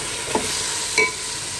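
Meat pieces dropped into a pan of fried ginger and onion sizzle in a steady hiss, with two brief scraping stirs, close and clear with no voices.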